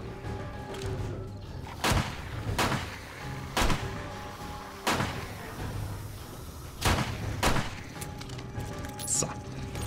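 Gunfire in the survival video game 7 Days to Die during a day-14 horde fight: five or six sharp, loud shots spaced irregularly over continuous background game noise, with no talking.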